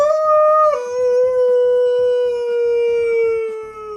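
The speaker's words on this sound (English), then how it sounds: "all the kids are huddled around when they hear a howling noise" A wolf-like howl rings out as a sound effect, one long, loud, wavering cry that slides slightly downward, with faint rhythmic thumping underneath.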